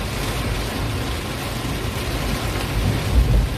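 Heavy rain pouring down in a dense, continuous roar, with deep low rumbling beneath it, on a drive entering the town of Lahat, Indonesia.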